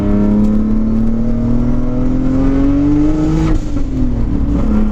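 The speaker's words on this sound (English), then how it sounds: "I think I just wanted to get another drive in this thing before I ripped the motor out." A Nissan 240SX engine revs steadily while the car is driven, a loud, continuous engine note that rises slowly in pitch and then dips briefly near the end, with no talking.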